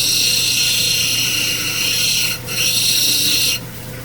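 A lapidary grinding wheel, around 220 grit, works a creek stone cabochon with a steady high-pitched whirring hiss and a low motor hum, briefly dipping twice as the stone is lifted from the wheel.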